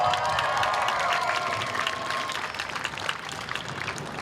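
A crowd at a Relay for Life ceremony cheers and claps, a dense roar with whoops and a few sustained shouts at the start, settling into steady applause and chatter.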